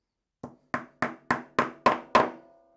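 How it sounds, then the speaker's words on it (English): Seven sharp hammer blows strike a nail into wood at a steady pace, each a crisp knock with a short ringing decay, growing slightly louder toward the end. "let's hammer off that second nail."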